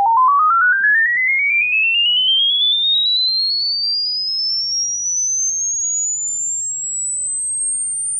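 A rising sine sweep from an audio signal generator plays through a 1978 Grundig Super HiFi Activ-BOX30 speaker under repair, gliding steadily upward from about 1 kHz to a very high whistle over eight seconds, loud and alone over a low hum.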